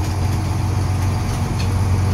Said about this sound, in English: So I move the bus onto the scale.